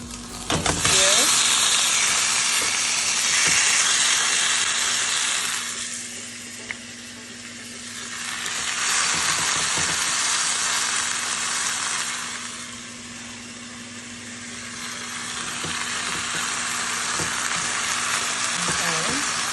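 Pork chops for a Jamaican dish sauté in a little oil, giving a loud, steady sizzle and hiss that swells and eases in waves, with occasional scraping as the pieces are moved.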